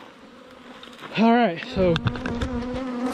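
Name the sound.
swarm of honey bees buzzing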